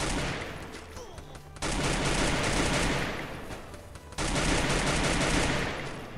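Enemy gunfire in a shooting video game, dense rapid bursts of automatic shots crackling at a moderate level, with two sharp louder surges of fire partway through.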